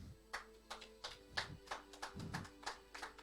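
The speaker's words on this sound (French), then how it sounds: "Acclame-moi très bien." Church congregation applauding at a Sunday service, a faint, distant run of about ten evenly spaced claps in a steady rhythm with no talk.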